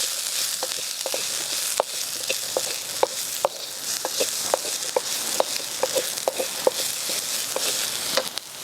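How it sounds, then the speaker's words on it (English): Chopped onions and garlic sauté in a pan for a tomato curry, giving a steady close sizzle and frying hiss with frequent soft stirring clicks and scrapes, and no voices. "Saute the onions very lightly."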